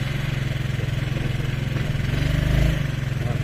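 A Honda CN 250 Helix scooter engine runs at a steady idle, a close, even low throb with a regular pulsing beat that swells slightly near the end.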